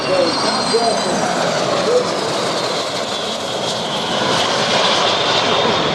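Loud aircraft engine roar at the Oshkosh EAA AirVenture 2021 airshow as a plane takes off, a broad steady rush with a faint rising whine, close and continuous throughout.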